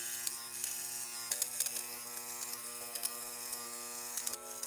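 A corded electric fabric lint shaver runs with a steady, high-pitched motorized buzz and hum. Small scratchy bursts appear as it passes over cloth, and the sound stays close and fairly quiet throughout.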